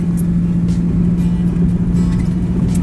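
A car engine hums at a steady, close, fairly loud drone with a constant low tone, like a vehicle cruising along, with no voices over it.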